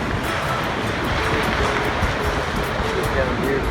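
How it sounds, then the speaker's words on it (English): Ocean waves rolling onto a white sand beach in the morning, a constant loud wash of surf with wind rumble against the microphone. "Got some people walking on the beach. Beautiful beach, white sand."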